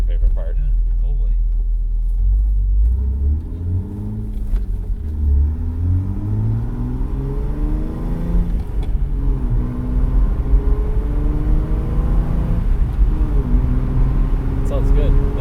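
Exhaust of a Jeep TJ with the muffler deleted rumbles loud and close, rising in pitch through several revs and dropping back, with gurgles and pops on deceleration while people talk over it.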